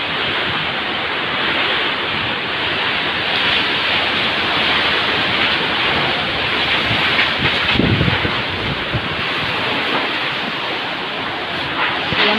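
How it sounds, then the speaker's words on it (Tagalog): Strong typhoon wind roars steadily and loudly across the microphone, buffeting it in heavy gusts with a surging, rushing texture throughout. "Lakas po ng bugso ng hangin dito."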